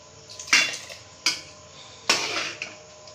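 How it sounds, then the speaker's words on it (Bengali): Gobindobhog rice being stirred in a metal pot brings several distinct clanks and scrapes of a spoon against the pot, spaced irregularly, close and fairly loud over a quiet background. "এবার আমরা ভালো করে নাড়াচাড়া দিয়ে ঢেকে দেবো"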